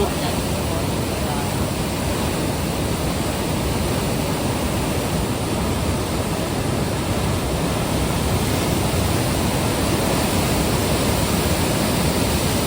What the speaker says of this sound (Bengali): বিভৎস প্রচুর প্রেশার চলছে জলের